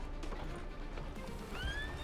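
A horse in Red Dead Redemption 2 Online whinnies once near the end, a short rising neigh over a steady hiss of game ambience and faint clip-clop.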